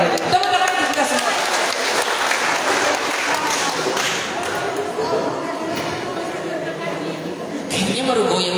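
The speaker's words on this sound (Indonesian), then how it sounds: "Tepuk tangan kita semua." An audience at a student leadership training session of a university law faculty's student executive board applauds. The clapping is loud and sustained for several seconds, and voices can be heard among the claps.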